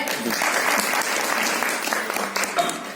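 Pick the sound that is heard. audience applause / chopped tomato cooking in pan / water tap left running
audience applause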